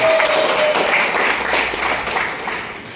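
Audience applause at a business presentation fills the whole stretch, a dense, loud, steady clatter of many hands that tapers slightly toward the end, with no talk over it.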